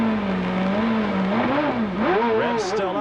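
A 1997 CART Indy car engine held at high revs in the pits during a Cleveland race stop, a loud, continuous buzzing drone whose pitch wavers and climbs, with a commentator talking over it.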